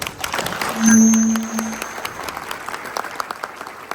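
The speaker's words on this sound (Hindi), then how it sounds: "ताली बजाना तो ठीक से बजाइए।" Applause from a business seminar audience, scattered sharp claps of moderate loudness that continue steadily for a few seconds, with a brief tonal note near the start.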